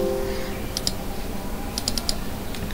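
Computer keyboard keys pressed in a short burst, a few light, close clicks in two quick groups against a quiet room, with no talk.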